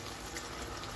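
Red wine poured into a simmering pan of browned-meat bolognese sauce with a bay leaf, a short, soft, steady liquid gush lasting about a second, faint and close.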